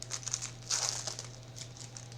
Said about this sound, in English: so I'm just gonna open this. I have little scissors.